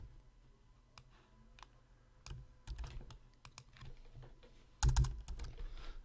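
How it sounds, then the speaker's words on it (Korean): Someone types on a computer keyboard, irregular soft clicks and taps with a few louder key strikes, close and quiet with no talk. "우리가 타이핑을 한번 해보도록 하겠습니다"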